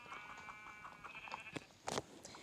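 Sheep in the Minecraft video game bleat several times in short, close calls, with a louder pair of bleats toward the end, set against quiet game background sound.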